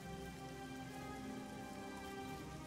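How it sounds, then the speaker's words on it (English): Steady rain falls across an outdoor scene in The Elder Scrolls IV: Oblivion, a constant, even hiss of drops on surfaces with faint musical tones underneath and no voices. "It's raining."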